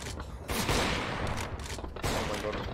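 AWP sniper rifle shots fire in Counter-Strike: Global Offensive, with a couple of loud, sharp cracks and their echoing tails set against busy game noise.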